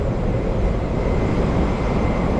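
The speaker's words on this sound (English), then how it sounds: "There goes another aeroplane." Airplane passing overhead outdoors near a rooftop HVAC unit, a steady loud low-heavy roar that fills the whole moment without a break.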